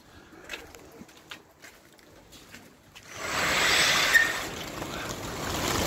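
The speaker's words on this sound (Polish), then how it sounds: "Gołębie tylko są pojone," Pigeons in a loft, nearly quiet for the first three seconds with a few faint soft sounds, then a loud, sustained rushing flurry that fills the rest of the clip.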